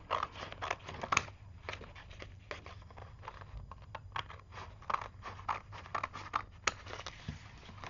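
Scissors snip through paper being cut down for craft-fair list pads, a quick, close run of crisp cuts with brief pauses between them, and no talking.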